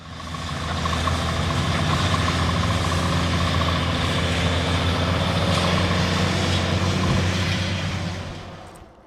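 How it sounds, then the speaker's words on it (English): Heavy trucks rumble steadily at a pipeline construction site in a residential neighborhood, a continuous low engine drone with idling tones lasting throughout, fairly close and loud, with no voices. "Residents say they cannot sleep at night because of the noise from trucks, which run all night long."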